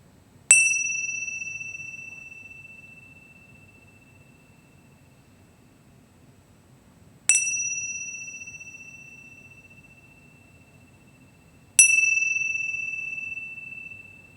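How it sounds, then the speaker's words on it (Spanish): Three clear bell chimes ring out during a guided breathing and posture relaxation session, each a bright metallic strike decaying slowly; the first sounds near the start, the next after a long pause, the third a few seconds later, over a quiet background. "al compás de las 3 campanas"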